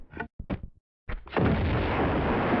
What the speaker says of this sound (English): I'm going to use the amazingness that is the grenade launcher to do it.